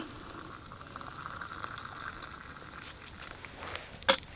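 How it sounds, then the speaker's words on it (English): An electric kettle boils water beside a carp fishing lake, a low steady bubbling rumble throughout, fairly faint, with a brief sharp knock near the end. "So sorry, my kettle's boiling in."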